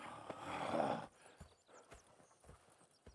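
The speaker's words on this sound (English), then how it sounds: "Go check the horses are ready" Horses in Red Dead Redemption 2, with a close whinny at first followed by the steady clip-clop of hooves and occasional snorts, quiet and without speech.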